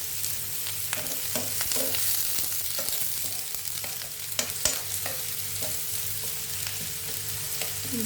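Onion fries in a pan with a steady, close sizzle, broken by soft scraping as it is stirred now and then; no one speaks.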